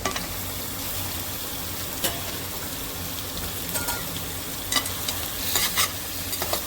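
Mutton head sautéed in hot oil in a pan for a Kolhapuri masala dish, a continuous loud sizzle and crackle with occasional sharp clicks of a spoon scraping and stirring.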